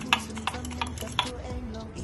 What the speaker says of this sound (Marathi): दही घेतलेला आहे, आपण त्याला फिरवून घेणार आहोत मस्त